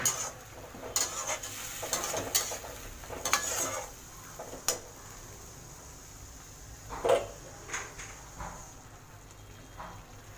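Spice paste for chole being stirred and fried in a pan, with a faint steady sizzle under repeated scraping and clinking strokes of a spoon against the metal.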